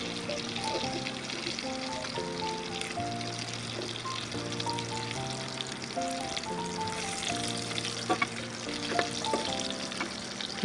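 Chicken pakoras deep frying in hot oil give a steady, close crackling sizzle throughout, with no talking.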